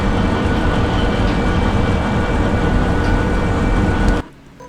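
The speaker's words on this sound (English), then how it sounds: "Bring the train sound down a little bit." Train running in the game Derail Valley, a loud continuous rumble and rolling drone that cuts off abruptly near the end.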